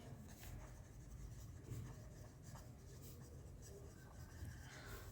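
A pen or marker scratches across a board or paper while a math problem on average speed is worked out, a faint, continuous rubbing stroke with no speech.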